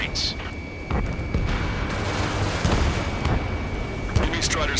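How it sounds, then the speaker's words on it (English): Gunfire and jet roar over a city under martial law in the video game Ace Combat 7: a dense, continuous rumble with repeated booming blasts and crackling bursts throughout, loud and close, under background talk. "Gunfire and the roar of jets echoing through the streets."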